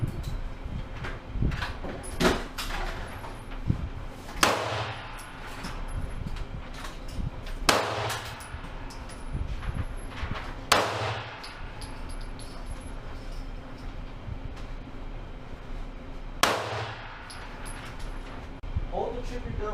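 Gunshots at an indoor gun store shooting range: several sharp, loud reports spaced a few seconds apart, each with a short echoing decay, between stretches of talk.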